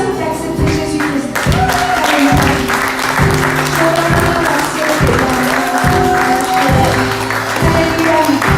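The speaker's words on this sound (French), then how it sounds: "Est-ce qu'on peut applaudir cette personne qui a accepté Jésus-Christ?" A church congregation claps at a service for a person who has just accepted Jesus Christ, with brisk, full applause running continuously alongside loud rhythmic music and keyboard tones.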